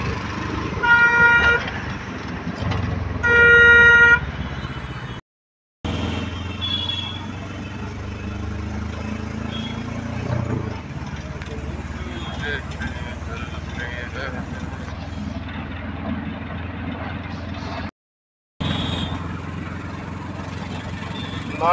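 A loaded transport vehicle sets off through Delhi NCR traffic toward Rajnagar station in Ghaziabad. Two short horn honks come close by early on, then steady engine and road noise continue with voices talking over it.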